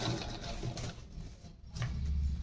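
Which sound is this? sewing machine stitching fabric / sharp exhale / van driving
sewing machine stitching fabric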